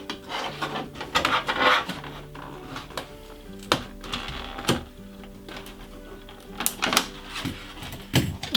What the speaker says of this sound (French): L'étape finale, le découpage de la carrosserie.